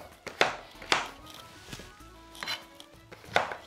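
A knife chops orange cheddar cheese into pieces on a board, with four or five sharp, distinct cuts spaced irregularly and close up, plus a faint scraping between strokes.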